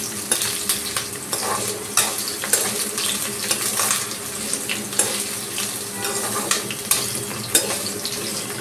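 Cauliflower florets frying lightly in oil in a pan for a Bengali-style roast, a continuous sizzle broken by frequent clinks and scrapes of stirring.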